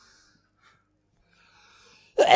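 After near silence with faint background noise, a single sudden sneeze bursts out at the very end, close and loud.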